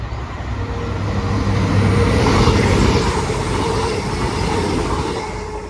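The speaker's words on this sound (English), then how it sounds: "here comes the cross-country service" A CrossCountry passenger train from Manchester Piccadilly bound for Bristol Temple Meads rumbles past nearby, a loud broad roar of wheels and engine swelling then holding steady.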